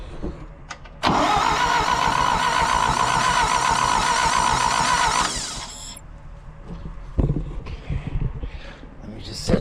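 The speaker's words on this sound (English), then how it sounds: "It's gonna start. It's gonna start." A 2000 Toyota Avalon with no spark on all cylinders cranks for about four seconds, a loud steady churning whir that then cuts out, followed by quieter knocks and shuffling.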